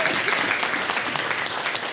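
Guests at a wedding break into applause for the bride and groom, a dense, lively burst of many hands clapping close by, with cheers mixed in and little talk.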